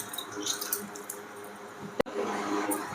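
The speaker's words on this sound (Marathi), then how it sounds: "याला आता स्वच्छ पाण्याने धुवून घ्यायचे दोन तीन पाण्याने चांगलं" Raw mangoes being washed in clean water, with soft splashing and running water, then a sharp knock or clatter of the fruit against a container partway through.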